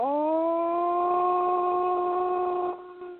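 A person imitates a wolf or coyote howl with one long, steady, tonal voice that holds for about three seconds and then drops away abruptly.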